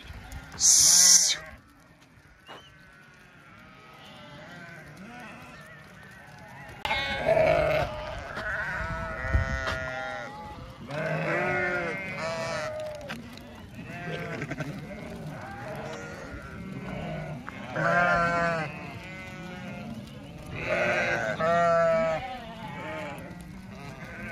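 A flock of hungry sheep on barren, dry land bleats repeatedly, in overlapping calls near and far, while people talk and shout among the animals, with a sharp hiss at the start.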